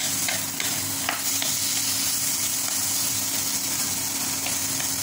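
Food crackles and sizzles steadily in a hot pan nearby, with a few brief stirring scrapes over a continuous hiss.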